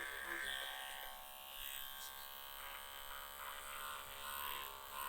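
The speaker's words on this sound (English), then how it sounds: "So I'm going to use my little trimming clippers again." Small electric trimming clippers buzz steadily during a hygiene trim of a dog's fur, a close, continuous high-pitched motor whine that wavers slightly as the blades move, with no talk.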